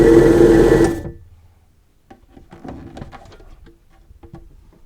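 A DVD polishing machine spinning a disc gives a loud, close mechanical whir for about a second, then drops away to faint rattling and ticking.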